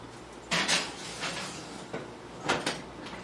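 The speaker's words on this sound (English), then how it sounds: "I'm putting it back in the oven uncovered for about 10 minutes." A chicken-and-gravy dish made with evaporated milk is slid back into an oven uncovered, with two clusters of clattering pan and oven-door knocks, fairly close and with no talking.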